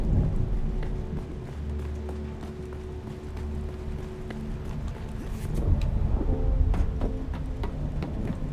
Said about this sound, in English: They did a really good job with the storm sounds on this.